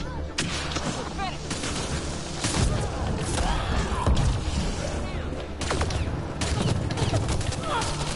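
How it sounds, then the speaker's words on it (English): Close-range shotgun blasts in the sci-fi shooter Mass Effect: Andromeda, played on PS4, ring out as loud, dense gunfire bursts over continuous battle noise, with a voice talking now and then. "Close range with the shotgun and still I miss."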